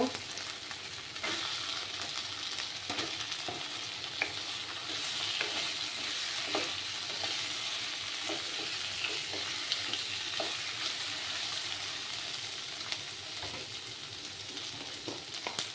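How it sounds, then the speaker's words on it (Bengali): Potatoes fry and get stirred in a pan for a Bengali fish curry with ridge gourd: a steady close sizzle runs throughout, broken by repeated scraping stirs. "এবার আমি এই আলুগুলো এটার মধ্যে দিয়ে দেব, দিয়ে ভালো করে কষিয়ে নেব।"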